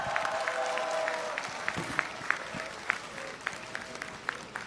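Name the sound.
audience applause at a political rally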